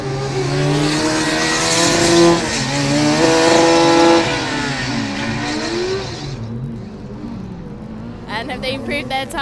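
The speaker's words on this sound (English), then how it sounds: "Car number 43 just reaching the saddle" A Formula Student race car tears through an autocross course, its engine revving high and shifting pitch as it accelerates and brakes, loud and close before fading away, followed by a brief burst of rising engine tones.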